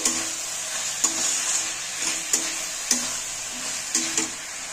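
Turmeric and spices for a katla fish curry being stirred and sautéed in a pan, a steady soft sizzle with repeated sharp scrapes of the spatula against the pan about once a second.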